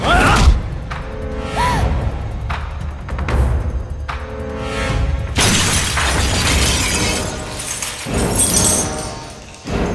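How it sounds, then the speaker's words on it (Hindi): A statue shattering in a dramatic scene from a dubbed action film, a loud crash and spray of breaking fragments amid a dense, heavy music score and effects, with raised voices nearby. "दादाजी की मूर्ति टूट गई।"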